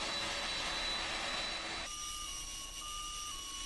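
A US cargo aircraft arriving in Israel gives a steady, faint roar of jet engines with a broad wash of noise and high whining tones that shift partway through, heard at a distance without talk.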